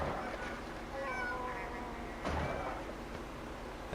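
A cartoonish goose honk from the mobile game Tiny Thief, a few short nasal quacking calls over a soft, busy game background, moderately quiet.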